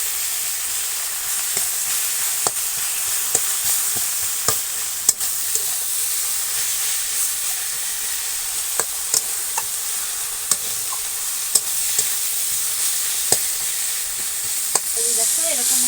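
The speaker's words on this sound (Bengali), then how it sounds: "এবার আমি খুঁটি দিয়ে এভাবে একটু পুরোগুলোকে ভেঙে ভেঙে নেব।" Chicken cutlet filling frying in a pan, a steady close sizzle broken by sharp spatula taps and scrapes as the mixture is stirred and broken up, fairly loud and continuous.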